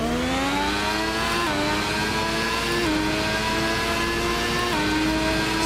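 A race car engine in the video game Assetto Corsa revs steadily upward in first gear, its whining tone climbing through several quick shift steps, loud and continuous with no talking.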